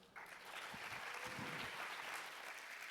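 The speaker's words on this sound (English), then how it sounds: "I'd like you to join me in giving my panel a round of applause" Applause from a conference audience for a sports tourism panel, a soft, distant wash of clapping that stays even throughout.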